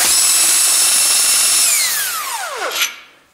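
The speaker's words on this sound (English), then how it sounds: "Take my impact driver." An impact driver spins out a crankshaft bearing bolt on a Ford Duratec engine, a loud close buzzing whir for about two seconds, then the motor winds down with a falling pitch and a short rattle.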